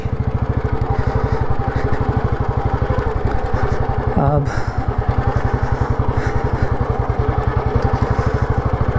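Old Royal Enfield Bullet 350 with a cast-iron engine thumps steadily through wet, waterlogged ground beside the Ravi River in the evening, its rapid, even single-cylinder beat loud and close throughout.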